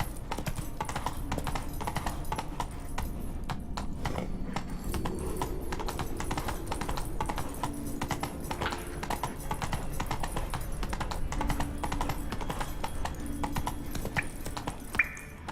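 Horse galloping in The Witcher 3, a continuous rapid clip-clop of hooves on the ground with steady rhythm throughout, fairly quiet, alongside faint game ambience and a brief rider's voice.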